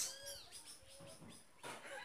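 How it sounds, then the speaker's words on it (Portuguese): Small bird singing outdoors on a Saturday morning among plants, a series of thin chirps and warbling phrases repeating through the moment at moderate distance, with no talk over them. "Passarinho cantando."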